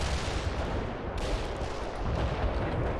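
An artillery barrage in the strategy game World in Conflict, a dense, continuous rumble of distant booms and blasts rolling together without pause throughout.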